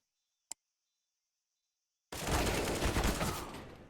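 Gunfire in a CS:GO match: a single sharp click, then near silence, then a sudden dense burst of rapid shots that carries on to the end.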